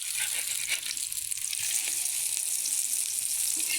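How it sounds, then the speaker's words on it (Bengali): An egg fries in hot oil with onion flowers, giving a steady bright sizzle with faint crackles and occasional utensil scrapes, close and constant throughout. "যখন পেঁয়াজের ফুল ওঠে তখন তো আমি এভাবে ডিম ভাজি করে খাই,"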